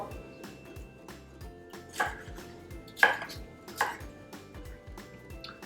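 A knife cuts a seeded vegetable into squares on a cutting board: three or four crisp, separate chops spaced about a second apart, close and clear over a low background hum.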